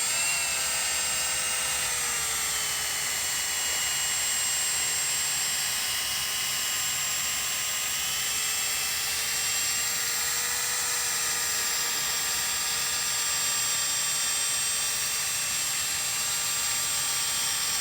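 A power sander with P800 sandpaper works over a car headlight, a continuous high-pitched whirring drone with slight pitch wavering, loud and steady from start to finish with no talking.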